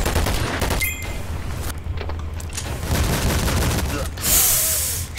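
Gunfire bursts in the shooter game Double Action Boogaloo, scattered loud shots and a brief rattling volley over steady game background, with a person talking throughout.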